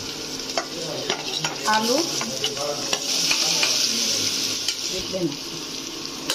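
Potatoes frying in a pan while being stirred make a close sizzle with repeated scraping and clattering strokes, and a person talks intermittently over the cooking.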